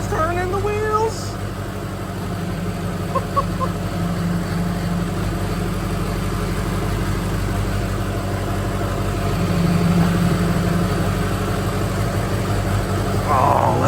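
A built diesel engine in a mega mud truck idles steadily after its first startup, a continuous low rumble throughout with excited voices talking over it.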